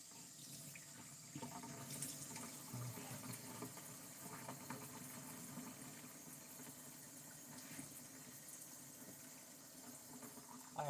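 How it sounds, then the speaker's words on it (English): Warm tap water runs steadily into a sink while a used Barbie doll's brushed-out hair is rinsed, a continuous close splashing stream with no talk over it. "I'm going to give it an extra rinse now that it's been brushed out."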